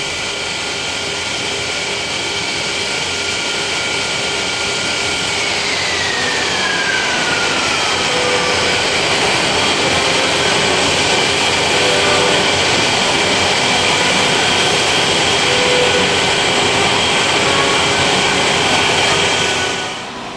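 Concorde supersonic airliner engines on the ground after taxiing to a stop, a loud, steady jet roar and whine sustained for about twenty seconds, with a falling tone early on and no voices.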